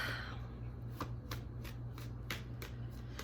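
A deck of guidance cards is shuffled in a run of crisp riffling bursts, about six quick flutters spaced across a few seconds over a steady low background hum, close and moderately loud.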